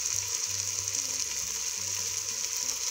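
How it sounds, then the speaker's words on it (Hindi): Black-eyed beans (lobia) fry in hot oil with a steady, dense sizzle throughout, joined by faint scraping and stirring sounds close by. "इसके अंदर हम डाल देंगे लोबिया और इसको हम अच्छी तरीके से करेंगे फ्राई 2 से 3 मिनट के लिए"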